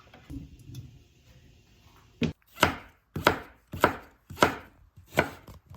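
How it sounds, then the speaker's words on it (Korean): Knife julienning washed carrots on a cutting board, a quiet lead-in followed by six sharp, evenly spaced chops close up with no talking. "이제 이걸 오빠한테 채 썰어달라고 하면 됩니다"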